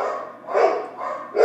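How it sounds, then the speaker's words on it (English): Dogs bark in the background indoors, three muffled, moderately loud barks spaced unevenly over a second and a half. "Sorry about my dogs in the background."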